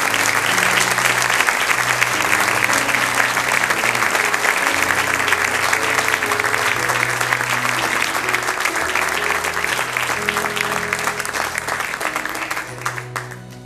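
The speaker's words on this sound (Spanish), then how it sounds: "Un aplauso a él," Sustained applause from a church congregation over steady music with low sustained tones, continuing evenly before easing slightly at the very end.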